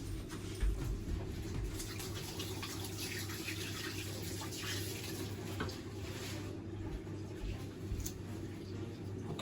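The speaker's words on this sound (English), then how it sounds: "let me wash my hands" Running tap water while hands are washed in a home kitchen during fried chicken preparation, a steady rushing stream throughout with faint splashing, moderately close.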